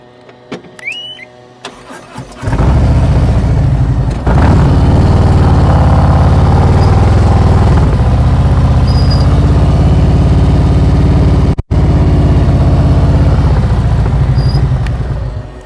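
Motorcycle engine running during slow-speed riding practice, quiet at first, then a loud steady idle-like drone that holds for over ten seconds with a brief dropout, no talk.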